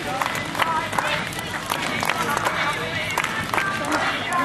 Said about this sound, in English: make some noise, clap in time with that music